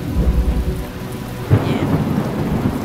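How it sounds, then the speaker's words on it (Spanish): Steady rain and thunder in the video game The Talos Principle, a dense wash of rainfall with low rumbling thunder and a sharper crack about halfway through, loud and continuous with no voices. "No me gusta cuando llueve."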